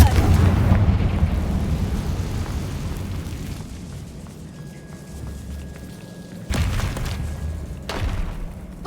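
A Confringo fire spell explodes in Hogwarts Legacy with a loud, rumbling blast that slowly fades, followed by a second sharp burst later on.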